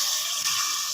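Water pours in a steady, close hiss into a pot of meat khichuri during cooking, one short continuous stream.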